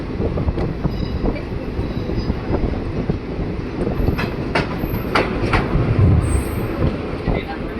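The Simhadri Express, a train running from Visakhapatnam to Guntur, rolls along with a steady loud rumble and rhythmic clickety-clack from the wheels on the track, and a few sharp metallic squeals cut through.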